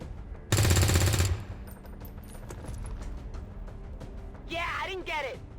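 Automatic weapon fire in the turn-based strategy game XCOM 2: one dense, loud burst of around a second, followed by quieter game sounds with a brief shrill sweeping effect near the end.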